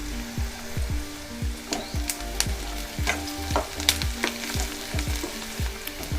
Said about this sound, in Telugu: బ్రౌన్ కలర్ వచ్చే వరకు వేయించుకుందాం ఉల్లిపాయ